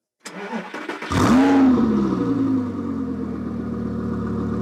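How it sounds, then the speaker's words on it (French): A Lamborghini Gallardo LP 550-2 V10 starts with a whirring starter crank, then bursts into a loud, close flare of revs before settling to a deep, steady idle rumble. "Valentino, avviare l'auto."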